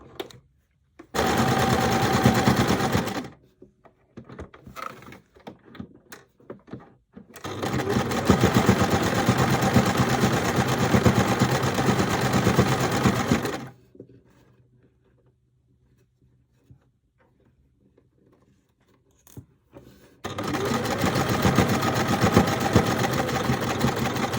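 A domestic sewing machine stitches a back pocket onto linen shorts, running in three sustained close bursts of rapid rhythmic whirring and clatter, separated by quiet pauses with faint handling sounds.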